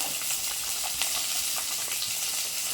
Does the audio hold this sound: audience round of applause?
no